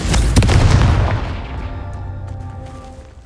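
A Confringo fire spell explodes in the video game Hogwarts Legacy, a loud, close booming blast with a crackling burst that decays into a rumbling tail over a few seconds, with no talk.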